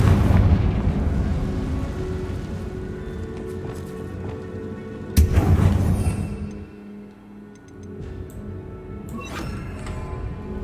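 Confringo fire spell blast in the Hogwarts Legacy video game: a sudden loud burst about halfway through, rising out of a dense rumbling game soundscape and then fading into a quieter stretch.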